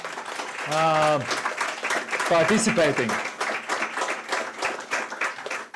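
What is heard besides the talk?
audience applause at startup ranking event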